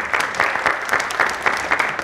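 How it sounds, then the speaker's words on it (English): An audience at a lecture applauding: loud, rhythmic, fairly close clapping, with regular bursts that sound like a small group clapping in unison. "Just an applause."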